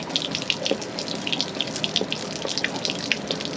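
Water drains steadily from an RV water heater, a continuous close gushing splatter with rapid irregular drips and spurts on top, loud and uninterrupted throughout.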